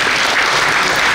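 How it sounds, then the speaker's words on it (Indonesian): Dense, loud audience applause at a public anti-hoax declaration event in Jambi, a continuous wash of many hands clapping close by with no voices over it. "Sekali lagi tepuk tangan."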